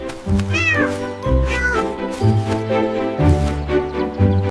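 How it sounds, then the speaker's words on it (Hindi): Animated cartoon cat meowing several times in a row, loud and close, each meow a drawn-out tonal cry with short pauses between. "बाय बाय मेरी प्यारी बिल्ली।"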